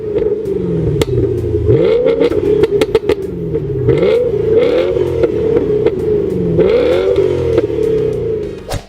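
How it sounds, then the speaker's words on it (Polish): A Volvo V8 engine developed with Yamaha revs repeatedly in sharp blips, each swell rising and falling back to idle. The engine sounds loud and close, with no speech. "Kiedyś był silnik V8 skonstruowany przy pomocy japońskiej marki Yamaha, który brzmi mm, szczególnie jak tam podłubiesz sobie wydechu."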